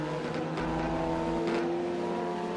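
Race car engine in a Honda racing simulator video game, a high, tonal engine whine holding steady with a brief rise in pitch, loud and close, alone without talk.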